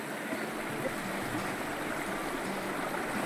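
River water flows in a steady, broadband rush that holds at a constant level throughout, with no voices over it.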